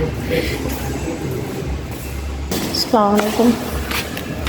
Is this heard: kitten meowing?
no